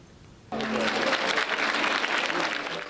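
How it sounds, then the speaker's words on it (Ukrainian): Audience applause at a fashion show as models appear on the runway, a steady crowd clapping that starts abruptly and holds loud and dense, with a voice speaking over its opening moments. "Під оплески глядачів на подіумі з'являються особливі моделі."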